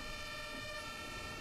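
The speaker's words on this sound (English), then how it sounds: "What's the most annoying thing is when you have an ambulance behind you like that" An ambulance siren wails behind a bus in the driving simulator OMSI 2 on Route 240 at Bowdenham, a steady multi-tone electronic siren held continuously at moderate distance, with no talk.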